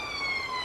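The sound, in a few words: distant police car or ambulance siren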